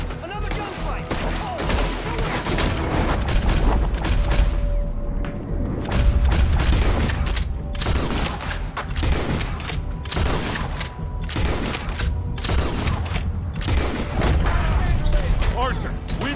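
Sustained gunfight in Red Dead Redemption 2, with dense overlapping rifle and pistol shots and booms running throughout, loud and close, under shouted voices.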